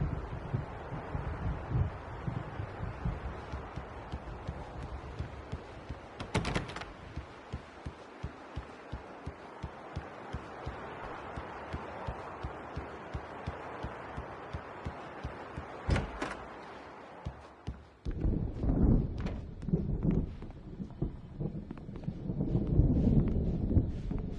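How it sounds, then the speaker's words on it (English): Gusty wind and distant thunder of an approaching storm in the game Alan Wake, a steady windy roar punctuated by faint clicks and a couple of sharp cracks, building to heavier low rumbling near the end. "The storm is almost here."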